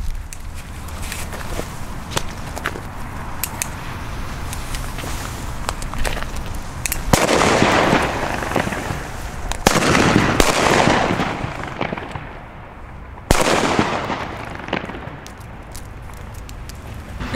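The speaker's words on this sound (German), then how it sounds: "Nun folgen die Funke-Böller C." Funke C firecrackers (German Böller) go off outdoors, three heavy booming bangs a few seconds apart with rolling echoes, preceded by faint crackling and handling noise.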